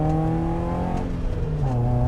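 A BMW E30 318iS four-cylinder revs up strongly after a downshift, a loud, close, steady engine drone that dips briefly and then climbs again with the rising tone of acceleration.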